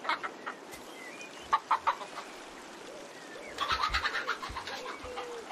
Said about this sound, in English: Over here we've got a chicken coop.